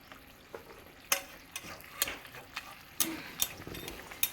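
Hot water goes into a frying bottle gourd and shrimp curry in a pan, bringing sharp crackling sizzles and stirring scrapes in uneven bursts, close and moderately quiet.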